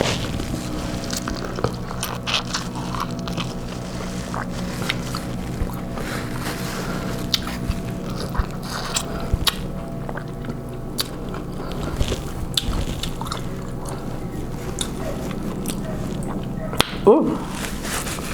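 Corn on the cob bitten and chewed during a king crab seafood boil meal, with moist close-up chewing and smacking and a low background hum throughout.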